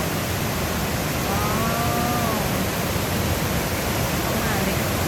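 The waterfall at Chet Sao Noi National Park in Thailand pours with a steady, dense, hissing roar that never lets up. A faint voice briefly surfaces within the wash.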